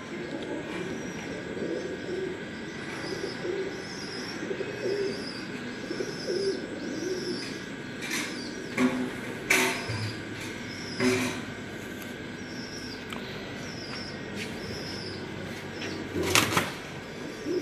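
Pigeons, some marked with colored paint, coo softly and repeatedly under steady ambient noise, with scattered chirps and brief flutters or knocks throughout.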